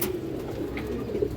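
Pigeons cooing, including a stone-eyed female, at a bird seller's; soft low coos repeat steadily through a short stretch, close and moderately quiet, with no voices.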